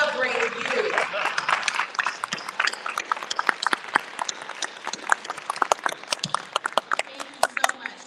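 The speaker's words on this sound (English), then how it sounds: "can you stand up, turn around, and applaud these students?" A room of leaders stands and applauds students at a Huntsville Black History program, a sustained burst of crowd clapping with dense, irregular hand claps over a murmur of voices.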